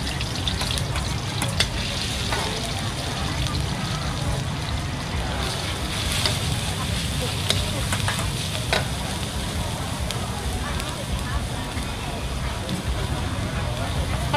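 Field rat stir-fried with kaffir lime sizzles steadily in a pan, with scattered clinks and scrapes of stirring. Someone talks over the constant frying hiss.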